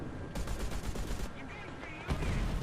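Rapid tank and gun fire in the War Thunder battle game from an M1 Abrams, a dense run of loud, sharp bangs in bursts with a brief lull midway.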